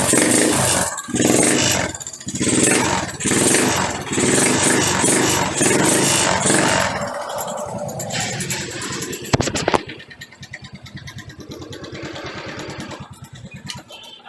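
A motorcycle engine with an overly noisy fault runs loud and rough nearby, revving in bursts and then settling into a rapid, rattling idle.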